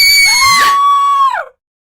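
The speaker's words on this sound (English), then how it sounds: "Screams floating down from the floor above." A single long scream, an audiobook sound effect of screams drifting down from the floor above, rises then holds loud and shrill for over a second before falling away into silence.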